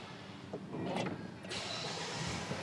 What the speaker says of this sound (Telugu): ఫ్రెండ్స్ ఇప్పుడు మనం వెహికల్ని ఒకసారి ఆన్ చేద్దాము